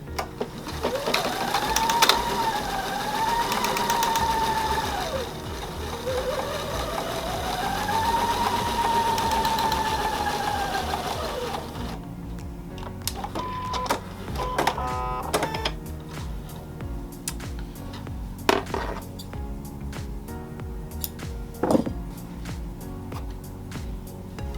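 A sewing machine stitching a quilt seam runs in two steady bursts with a rising and falling whir, then stops and gives way to scattered clicks and handling noises of fabric and thread.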